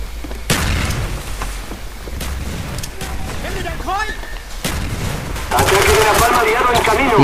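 Gunfire and a grenade blast in Call of Duty Black Ops multiplayer, with repeated rapid shots and sharp bursts, a heavier boom near the end, all loud and close.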